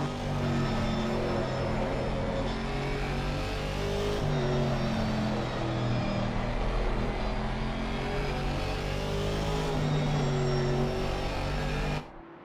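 Race car engines at Suzuka in a video game endurance race, featuring an Aston Martin and a Ferrari: a continuous droning engine roar with shifting pitch and no talk, cutting off abruptly at the end.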